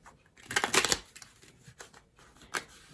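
Tarot cards shuffled on a lap, a burst of soft papery riffling followed by a few quieter scattered flutters and one last short riffle, close and fairly faint, with no talking.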